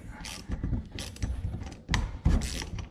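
A ratchet wrench unscrews a fitting while a magnetic flywheel puller for a Solex moped is being made, giving a run of close, rhythmic metallic clicks in uneven bursts.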